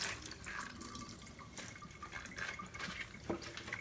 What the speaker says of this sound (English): You can rinse it with cold or hot water using that.